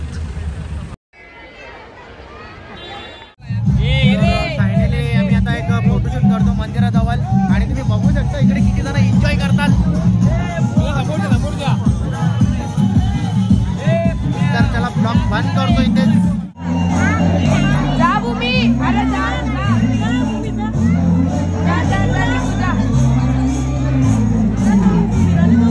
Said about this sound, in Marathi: आज एवढी गर्दी आहे